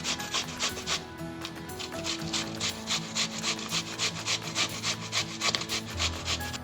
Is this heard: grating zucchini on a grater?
yes